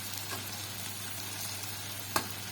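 Steady hiss of cauliflower fritters frying in oil, a continuous broadband sizzle with a hum underneath and one brief sharp crackle near the end.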